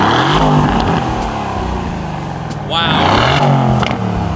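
Loud, nearby revving from a 2020 Toyota Supra with a downpipe: a sustained engine drone that swoops up sharply in a quick blip near the end.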